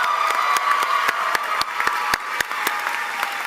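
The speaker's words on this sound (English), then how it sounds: "So can we get a round of applause for Mama Riccardi?" A high school commencement crowd gives a round of applause for a retiring teacher: a continuous bed of clapping with sharp, evenly spaced claps standing out in a steady rhythm, fairly loud and without talk.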